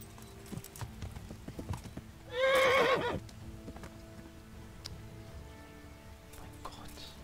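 Hooves clop in an uneven walk before a loud, close horse neigh rises and fades, followed by more scattered hoof steps in Kingdom Come: Deliverance, with talk around it.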